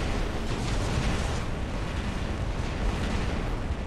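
Heavy weapon fire in the War Robots mech game, a dense continuous roar of blasts and rumbling impacts, loud and unbroken, with no talk.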